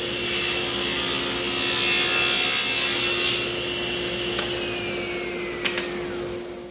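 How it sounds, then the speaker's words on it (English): A vacuum runs steadily beside a saw cutting a wooden picture frame piece, a loud continuous whine with a bright rasping cut that fades in the second half, followed by a couple of short knocks. "once it's all set up, I turn on the vacuum and I'm good to go"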